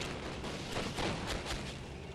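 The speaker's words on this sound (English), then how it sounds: "I have my mortar start shelling them to try and force them to fall back" Dense rumbling barrage of mortar shelling in the WWII strategy game Steel Division: Normandy '44, with continuous muffled booms and distant blasts blending into a steady roar.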